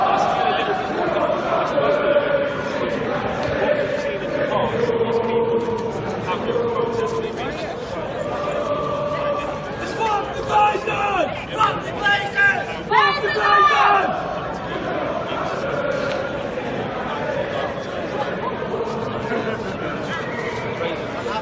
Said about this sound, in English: Just going to take you into the crowd.